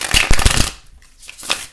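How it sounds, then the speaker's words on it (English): Tarot cards are shuffled up close in a quick riffling burst, a short pause, then another brief flutter of shuffling. "we're going to go ahead and shuffle these tarot cards and see what comes through for you"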